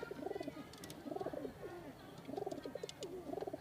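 Pet pigeons coo in repeated soft, rhythmic bursts, close and fairly quiet, with brief pauses between phrases and faint background noise.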